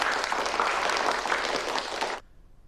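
Studio audience clapping at a televised cooking competition, a dense burst of applause that holds steady and then stops abruptly, with no talk over it.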